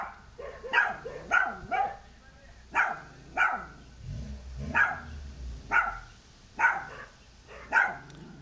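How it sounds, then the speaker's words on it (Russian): An angry dog barks nearby in a steady series of about nine loud, sharp barks at roughly one-second intervals, with whiny edges between some of them. "Хорош лает собака. Злая собака."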